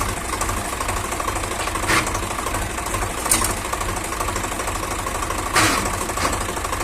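Tractor engine running steadily with a rattling, knocking noise from a faulty clutch, a continuous close mechanical drone with a few brief louder clanks.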